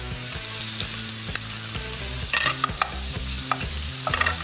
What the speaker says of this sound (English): Now that bacon's getting really nice and crispy